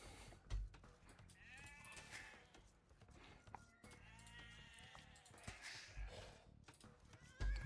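Sheep bleating in the video game Age of Empires 2, several wavering bleats over a soft, busy game background with faint clip-clop and other animal calls, moderately quiet.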